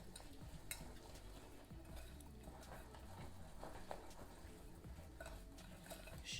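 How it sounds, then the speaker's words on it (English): Icing sugar is mixed with liquid for scones, stirred into a runny, stringy glaze with a soft, continuous scraping in a bowl, faint and steady throughout. "Then I'm gonna mix it in to my icing sugar."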